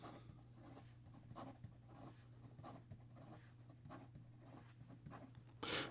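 An Artcraft Mars Rover fountain pen nib moves fast across paper, making close, soft scratchy strokes in a quick irregular rhythm, with a louder rustle at the very end.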